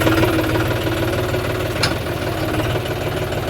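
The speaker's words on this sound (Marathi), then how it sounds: "या व्हिडिओमध्ये पाहू आपण की मशीन कशा प्रकारे चालतं व कसं हे धान्य काढता येतं" A maize threshing machine's engine runs steadily nearby with a continuous knocking rumble and vibration, holding an even loudness without pause.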